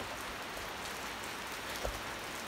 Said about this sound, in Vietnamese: Đấy, mưa đùng đùng đấy.